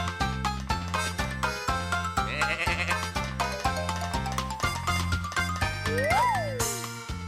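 Cartoon sheep bleat over a bouncy music track with bells and jingles, the calls blending into steady rhythmic backing throughout.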